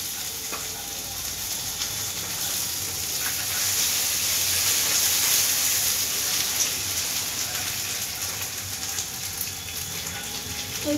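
Ginger paste, chopped tomato and green chilli sizzle in hot oil in a pan, giving a steady, close hiss of spattering and crackling that swells slightly midway and carries on without pause.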